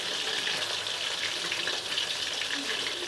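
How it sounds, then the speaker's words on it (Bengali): Chicken leg pieces deep-fry restaurant-style in hot oil, a dense, even hiss of bubbling that holds steady and fairly loud throughout with no distinct stirring or voices. "রেস্তোরাঁ ফুড কর্নারে এইভাবেই লেগ পিস ফ্রাই করা হয়।"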